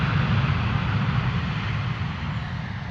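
A Ryanair jet in from Alicante roars steadily in reverse thrust after landing at London Stansted Airport, a broad, loud rumble that holds for a few seconds with no voices.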